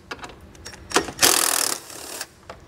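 Mechanical whirring and clicking from work on a 2021 Chevrolet Spark's front end as 10 millimeter bolts are removed, with a loud sustained whir in the middle between shorter bursts and clicks.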